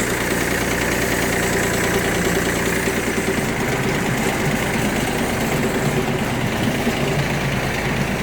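A Shibaura SD1540 Japanese mini tractor runs its rotary tiller in a loud, steady diesel drone with a constant mechanical rattle; the engine note thickens partway through.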